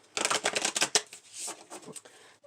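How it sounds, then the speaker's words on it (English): A tarot deck shuffled quickly by hand, a rapid rattling riffle of cards in close succession, loud and near, trailing off into a few softer flicks. "I'm going to do a quick shuffle"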